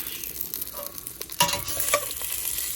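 Basmati rice frying in a little oil in a pan as it begins to brown at the bottom: a soft continuous sizzle with a few stirring scrapes, close and moderately quiet, no talk.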